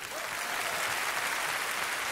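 A cabaret audience applauds a volunteer named Virginie, a dense, steady wash of many hands clapping at moderate volume, continuous for a couple of seconds with no voices rising above it.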